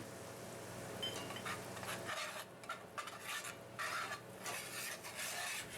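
Flour stirred into melted butter and sautéed onions for a roux in a cast iron skillet: close, uneven scraping and stirring strokes with a soft sizzle underneath, no voices.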